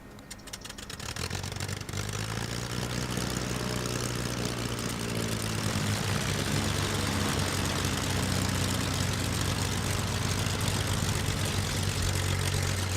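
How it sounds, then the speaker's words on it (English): Light aircraft propeller engines start on the ground before a flight to Milford Sound, New Zealand, then settle into a loud, steady idle with a throbbing low drone that fills the whole stretch. "Time to start the engines."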